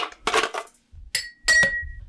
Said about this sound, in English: We're now going to add some ice to this.